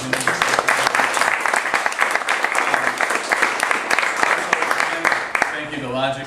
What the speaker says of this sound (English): Another round of applause for Dane,